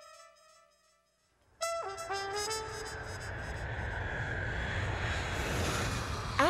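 A jet aircraft engine spools up and roars steadily after a brief quiet start, a loud sustained broadband rumble with a whining tone sweeping downward as it builds.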